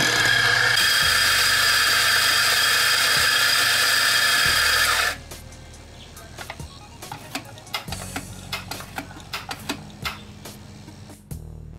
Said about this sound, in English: And there we go, we get 5 seconds of grinding.